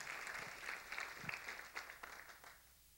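A church congregation applauds for Jesus, a fairly quiet spread of many hands clapping with a few sharper individual claps, fading slightly near the end.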